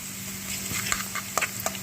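Spicy beans fry in a hot pan with a steady sizzling hiss, while a few sharp scrapes and stirring clicks ring out near the end.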